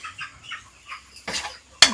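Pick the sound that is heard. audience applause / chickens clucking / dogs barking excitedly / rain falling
chickens clucking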